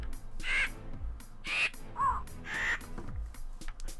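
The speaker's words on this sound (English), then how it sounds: "Oh, it's a bird." A bird in the video game Minecraft Feed the Beast gives four harsh, evenly spaced caws, each clear and fairly close, with no talking.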